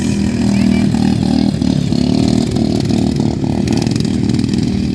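A Honda GX small engine on a machine fitted with a tractor wheel runs loud and close, a steady buzzing drone with a slight rhythmic wobble and no speech.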